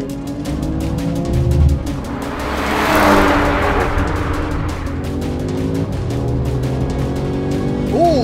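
Three cars, a 2022 VW Golf R, a BMW M240i and an Audi S3, in a roll race: steady, loud engine drone with rising revs and gear shifts, a surge of noise midway, heard from inside a car with little talk.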